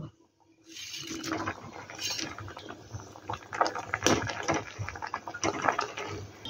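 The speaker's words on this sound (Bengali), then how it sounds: "ঝোল ভালো মতো ফুটে গেছে। এবার এর মধ্যে কোফতাগুলোকেও দিয়ে দেব।" Chhana koftas dropped into boiling sukto broth made with milk, potato and bitter gourd, the liquid bubbling and splashing continuously with a few louder plops, close and fairly strong.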